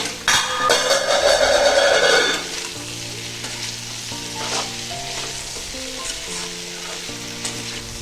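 Food with egg frying in a pan: a loud, crackling sizzle for the first two seconds, then a softer ongoing sizzle beneath background music.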